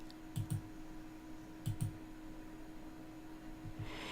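Mouse clicks on a software Next button, heard as three quick pairs of soft double clicks spaced across a quiet room background, with no talking.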